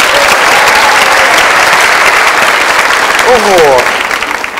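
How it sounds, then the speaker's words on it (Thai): A studio audience at a cooking competition show featuring bluefin tuna claps and cheers loudly and continuously, with a voice exclaiming over the applause, which tapers slightly at the end. "ผมขอเสียงเชียร์หน่อยครับ"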